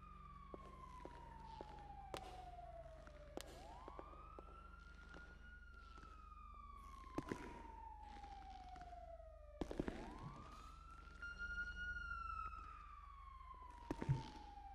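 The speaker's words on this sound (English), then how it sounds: "sirens are still running" Police car sirens in the GTA V video game wail in long rising and falling sweeps, fairly faint and steady across the stretch with no voices over them.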